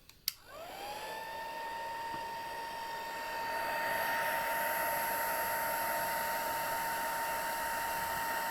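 After a small click, a heat tool switches on and blows with a steady whirring hiss and a rising whine as it warms gold embossing powder on a stamp, close and continuous.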